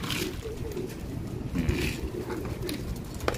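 Pigeons coo softly and steadily while feeding on mixed grain and mineral feed in a loft, with faint scuffling and pecking throughout.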